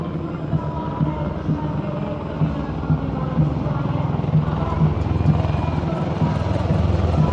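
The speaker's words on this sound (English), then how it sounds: "And now flying is the Garud formation, a powerful display of indomitable spirit of our Apache attack helicopters" Apache attack helicopters fly overhead in formation during a military display, their steady, throbbing rotor drone filling the air continuously at a loud, even level.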